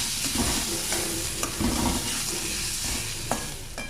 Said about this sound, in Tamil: ஒரு 2 மினிட்ஸ் கேரட் எல்லாம் வதக்கலாம். தேவையான அளவு உப்பு ஆட் பண்ணி எல்லாத்தையும் நல்லா மிக்ஸ் பண்ணிக்கலாம்.